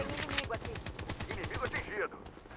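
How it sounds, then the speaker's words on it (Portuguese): Rapid automatic gunfire in the PC shooter game Blood Strike during a squad match, dense bursts of shots in quick succession, loud and close, with a voice talking briefly under the fire. "Tem tiro pra esquerda."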